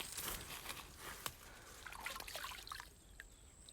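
Water from an outdoor tubewell trickles and splashes softly and steadily as someone washes their hands and face, a faint, continuous running stream with occasional small splashes.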